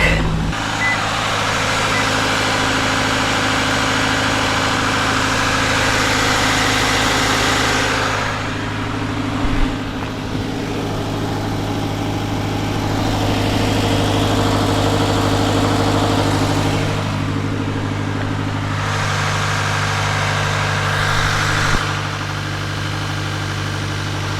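A Subaru Crosstrek engine idles steadily with the hood open, producing a continuous close, loud hum with a slight shift in tone partway through.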